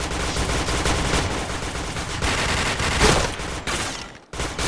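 Dense video-game gunfire, rapid continuous bursts of loud shots filling the scene with barely a pause, cutting out briefly near the end before resuming.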